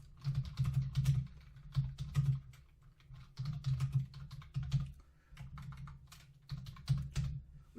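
Rapid bursts of typing on a computer keyboard, clicking in uneven clusters with short pauses between runs, close and fairly quiet, with no voices.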